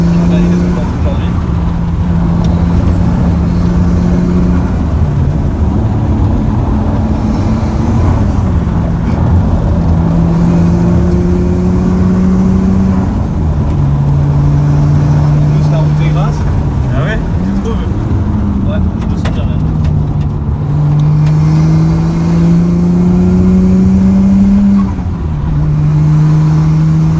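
A tuned Nissan Skyline R33 accelerates hard, its engine note climbing steadily through several gears with brief dips at each shift, loud and close throughout, while people talk over it.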